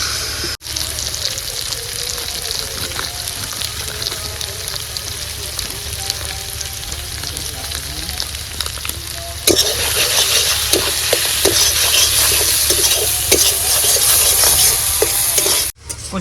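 Spice paste fries in a pan with a steady, loud sizzle and some stirring scrapes, and the hiss grows stronger about two-thirds of the way through.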